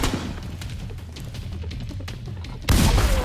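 Distant autocannon fire in The Division 2 rumbles beneath a busy battlefield bed of scattered shots and low booms, ending in a sudden louder, closer blast of heavy noise.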